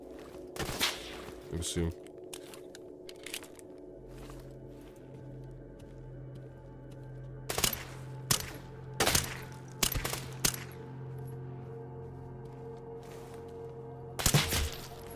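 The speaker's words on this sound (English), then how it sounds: "Is that suppressed rifle?" Suppressed rifle shots in the survival shooter G.A.M.M.A., heard as several short muffled bursts spread across the stretch, mostly under ongoing talk and faint background game ambience.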